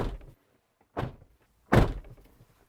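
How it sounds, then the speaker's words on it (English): Three heavy door slams from a 2024 Isuzu N Series light truck, each a short, solid thunk with no voices around it. The first is softest and the third is the loudest and closest. "this is what the door slam sounds like"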